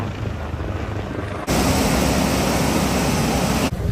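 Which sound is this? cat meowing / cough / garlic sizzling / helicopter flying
helicopter flying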